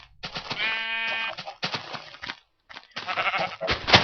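Minecraft sheep let out a series of bleats: a long, quavering cry, then shorter ones after a brief pause, close and clear with no talking.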